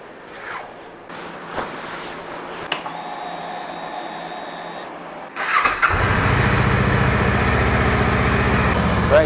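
A Honda Rebel motorcycle has a few quiet rustles before it, then its engine starts near the six-second mark and settles into a loud, steady idle as it warms up.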